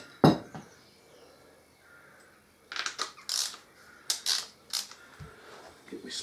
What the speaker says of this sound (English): now I've cracked it, I'll put it on a ratchet.